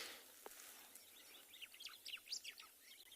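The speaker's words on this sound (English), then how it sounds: "The birds are still chirping though." Birds chirp and tweet in quick, bright bursts during a cloudy morning safari in South Africa, the calls moderately close and growing busier toward the end over a quiet, faint background.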